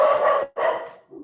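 A dog barks twice in quick succession close by, loud sharp woofs followed by a brief softer yip, cutting into an outdoor storytelling session of Yeats poetry.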